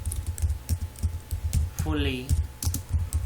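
Code is typed on a computer keyboard in quick, close clattering keystrokes, with someone talking over them and a short electronic chime partway through.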